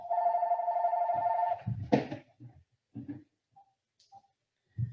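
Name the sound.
telephone ringing in a living room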